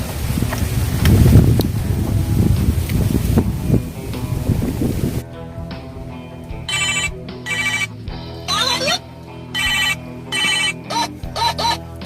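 Windy outdoor rumble gives way to a telephone ringing in repeated electronic bursts with short gaps, loud and close.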